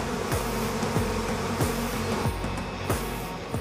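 A dense, steady buzz of many bees swarming close around a honeycomb, continuous with no voices.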